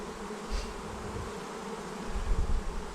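Dense, close humming of many honeybees as a well-populated hive is opened for its first inspection of the year, a continuous drone that swells slightly toward the end, with no talking.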